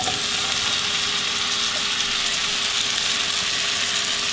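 Mushrooms and onion frying in a pan, a steady broadband sizzle that holds evenly throughout at moderate loudness, with no talking over it.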